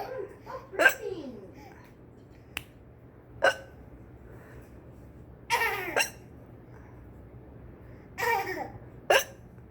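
A baby hiccups, with several sharp, separate hics spaced a few seconds apart, and soft babbling and giggly vocal sounds around them.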